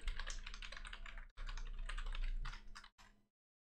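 Someone types an email address and password on a computer keyboard in quick, close bursts of key clicks, with two short pauses before the typing stops.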